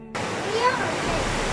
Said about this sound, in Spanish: nuestra guía nos está enseñando el río Orlé